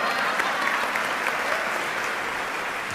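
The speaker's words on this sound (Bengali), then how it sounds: "আমাদের জন্য জোরে করো তালি।" At the Meril Prothom Alo Awards 2016 ceremony, a large audience gives sustained loud applause, even and dense throughout with some crowd murmur mixed in.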